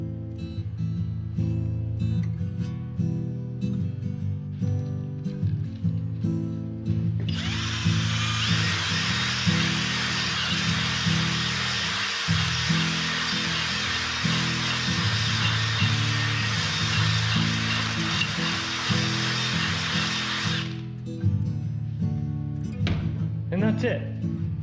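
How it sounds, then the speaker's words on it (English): A drill spins an oiled ball hone inside an oiled cylinder of an LS L33 engine. It gives a loud, continuous high whir for about fourteen seconds, with someone talking before and after it. "Got the ball hone and the drill here."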